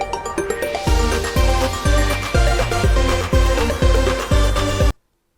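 A music track with its bass lifted by a simple boost, where heavy booming drum hits land in a steady beat under layered melodic parts, loud and full before cutting abruptly to silence.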